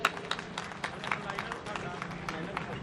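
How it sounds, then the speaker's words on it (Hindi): Audience applause rises to welcome Satyanand Sharma at a kavi sammelan (poetry gathering) in Danganiya, Raipur: a moderately loud, steady patter of many hands clapping in a hall, with crowd murmur and voices underneath. "सत्यानंद भैया के लिए जोरदार तालियों से स्वागत करें।"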